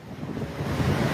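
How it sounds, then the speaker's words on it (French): Cyclone Chido lashing Mayotte with violent gusts and pouring rain, a loud, steady roar of wind buffeting the microphone with a rushing wash of water beneath, continuous and unbroken. "le cyclone Chido déverse ses premières trompes d'eau, ses premières rafales"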